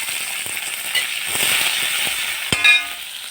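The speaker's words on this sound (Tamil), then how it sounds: "சின்ன வெங்காயமும் பெரிய வெங்காயமும் கொஞ்சம் கொஞ்சம் போட்டுருக்கேன்" Small and large onions hit hot oil with mustard seeds and curry leaves, a close bright sizzle swelling steadily, then a sharp metallic clang near the end followed by a short ring, no talk.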